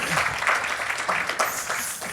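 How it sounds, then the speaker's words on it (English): An audience gives a round of applause for the speakers at an event about hate and its stories. The clapping is fairly loud and has a crowd-like texture, swelling in waves. Some speech is faintly mixed in. "please join me in giving a huge round of applause to all of our speakers for today"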